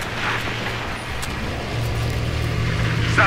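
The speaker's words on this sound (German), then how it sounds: "Fahrzeug kommt auf euch zu." A vehicle approaches in Battlefield 3, a steady low engine rumble with road noise that holds and swells slightly toward the end, fairly close and continuous with no talk over it.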